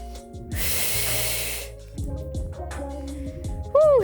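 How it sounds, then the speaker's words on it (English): A long, loud exhale hisses out through pursed lips during a beginner mat Pilates workout with a mini ball, close to the microphone over soft background music, followed by shorter breathy puffs. "Breathe out through pursed lips."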